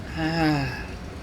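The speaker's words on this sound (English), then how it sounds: "that's a yawn" A single drawn-out yawn with a rising then falling breathy tone, close and fairly loud, lasting about a second before trailing off into quiet.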